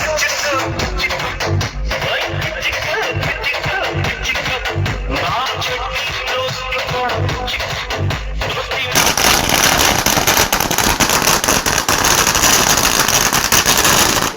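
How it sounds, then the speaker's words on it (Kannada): Firecrackers crackle and burst at a friends' reunion celebration at a cricket trophy event in Narayanpur, a dense rattling barrage under loud crowd and music noise that grows harsher and steadier in the final seconds. "ಪಟಾಕಿಗಳ ಸದ್ದು, DJ ಅಬ್ಬರ"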